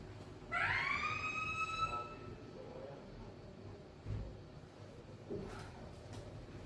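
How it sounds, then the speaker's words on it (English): An ambulance siren wails down the road, a rising and falling tone sounding at a distance for a couple of seconds before fading, followed by faint clatter and soft background noise. "It's an ambulance at the end of the road."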